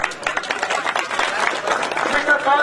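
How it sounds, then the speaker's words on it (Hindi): Crowd clapping at a village political rally in Haryana, a dense, rapid patter of many hands close by. It swells and stays busy throughout, with voices mixed in. "जोरदार तालियां एक बार"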